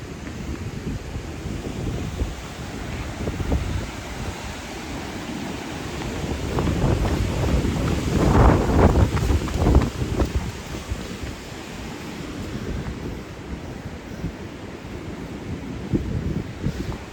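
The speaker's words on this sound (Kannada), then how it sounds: "ಇಲ್ಲಿ ಹೆವಿ ಗಾಳಿ ಮಾರೆ, ನನ್ನನ್ನೇ ದೂರ್ತದೆ ಗಾಳಿ" Strong wind blows at a seaside temple, rumbling steadily and loudly against the microphone and swelling to a peak midway. Surf may mix into the roar, and no one speaks.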